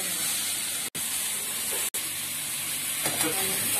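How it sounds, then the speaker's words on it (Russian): Fish frying in a pan on a holiday kitchen stove gives a steady close hiss and sizzle, broken by two brief gaps, with faint sounds rising near the end. "Рыбка жарится, смотрю."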